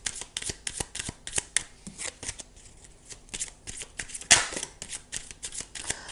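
A deck of Lenormand cards is shuffled close up, giving a series of crisp, fluttering riffles and snaps in an uneven rhythm, with one sharper slap near the middle and no speech.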